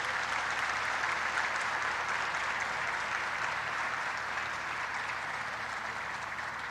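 A crowd claps steadily and continuously at the launch of an electric hybrid sea taxi, a broad even wash of applause that holds at a moderate level throughout.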